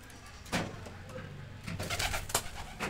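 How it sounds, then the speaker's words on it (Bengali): Pigeons in a pigeon house coo in soft, repeated low calls, with rustling and a few louder flutters or bumps close to the microphone, and no talking. "এরা হচ্ছে আমার কবুতর বাহিনী।"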